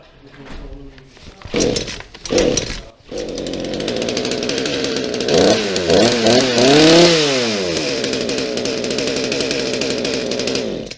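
An Echo chainsaw is pulled over after a cold start, catches and roars, its engine revving up and down before settling into a loud, steady run, with brief speech near the start.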